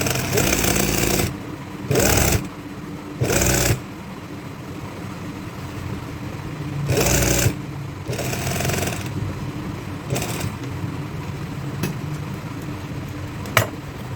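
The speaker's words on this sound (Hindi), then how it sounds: "आसन की सिलाई लगाते वक्त इसका टांका मशीन का ज़रा छोटा रखें।" A sewing machine runs steadily while stitching the seat seam of a pair of trousers, a continuous close mechanical whir with several louder bursts as the machine speeds up, and no speech over it.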